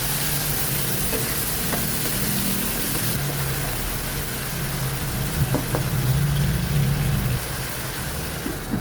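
Tomatoes seasoned with pepper and salt fry in a pan, a continuous close sizzle with occasional stirring clicks and a low hum beneath, louder toward the middle, no talking.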